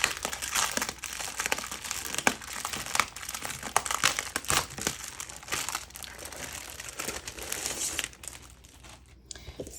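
Cellophane and plastic packaging of a My Mind's Eye One Fine Day craft kit crinkles and crackles steadily for several seconds, close and fairly loud, with brief sharper crunches along the way.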